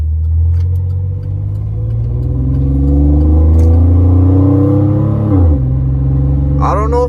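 Pickup truck fitted with a cold air intake and throttle body spacer driving along, deep steady engine rumble with gear-like pitch rises as it accelerates, loud and close from inside or near the cab.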